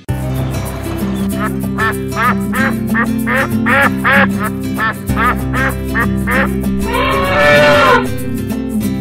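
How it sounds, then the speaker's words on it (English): Quacking from a mother duck in a children's nursery rhyme, a run of evenly spaced, honking calls over steady music, ending in a louder, breathier burst near the end. "Mama duck said quack, quack, quack"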